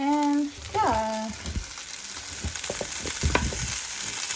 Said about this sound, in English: I have to keep stirring this as well because I don't want to stick into the pot